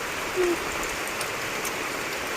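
Rain falls steadily outdoors near a water tap, a soft even patter with faint drips and no voices.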